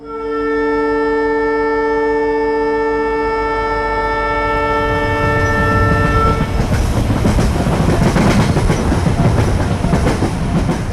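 A train sounds its horn in a long, steady, loud blast for about six seconds, then the horn stops and a close, rumbling clatter of the moving cars and wheels carries on to the end.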